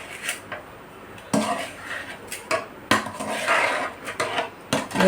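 Spoon scraping and clinking against a pan while cooked rice is stirred for chicken fried rice, a series of close, irregular metallic scrapes and knocks with no talking.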